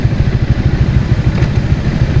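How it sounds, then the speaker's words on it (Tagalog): Motorcycles riding through Kaybiang Tunnel, a loud, close engine drone with a fast rhythmic pulsing throb that holds steady throughout, with no talk. "Daming nagmumotor mga dre."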